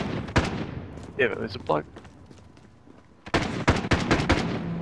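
Warzone gunfire in a sniper battle: one sharp, loud shot early, then a quieter stretch with someone talking, followed by a cluster of rapid, punchy shots near the end.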